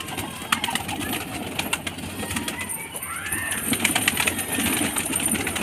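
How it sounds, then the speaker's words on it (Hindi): Pigeons leave their opened coop with bursts of wing flapping and scattered cooing. The sounds are fairly close and overlap a busy outdoor background. "कबूतर निकलने लगे।"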